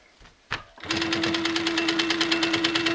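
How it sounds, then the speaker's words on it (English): Sewing machine stitching quilting fabric along the edge of a template: a few brief handling knocks, then a steady, rapid, even stitching rhythm over a constant motor hum, loud and close. "now I'm stitching just right along the edge down to the next corner"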